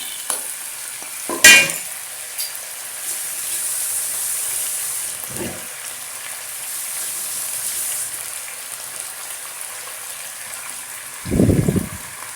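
Javanese fried rice with sweet thick soy sauce and oyster sauce is stir-fried in a pan. A steady close sizzle runs throughout, broken by a few sharp spatula scrapes and knocks, with no talking.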